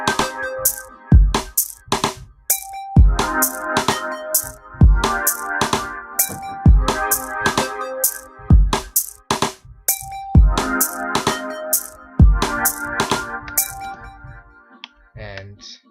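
A synthesized melody pattern built in FL Studio 11 for a track plays as short, plucky notes in a steady, repeating rhythm with punchy hits. The sequence loops twice, is moderately loud, and ends with a brief flourish; no one speaks.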